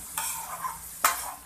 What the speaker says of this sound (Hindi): तो करेंगे अब इनको मिक्स। तवे पे कुकिंग करने का अपना ही एक वो है मज़ा